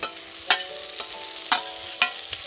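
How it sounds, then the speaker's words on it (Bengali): Fried eggs dropped into a spiced masala crackle and sizzle steadily, with three sharp scrapes of a spatula stirring through the pan at even intervals. "ভালো করে কষিয়ে নিয়েছি এবার আমি ভেজে রাখা ডিমগুলো সব দিয়ে দেবো"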